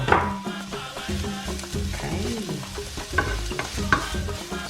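Onion sizzles in a pan of hot extra virgin olive oil, with frequent scraping and stirring knocks over a soft steady fry, close and fairly quiet.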